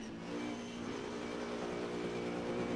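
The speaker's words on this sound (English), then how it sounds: "Listen to that fixed setup engine roar." A race car engine with a fixed setup in the Assetto Corsa video game roars steadily at high revs, loud and continuous, climbing slightly in pitch throughout with no talking.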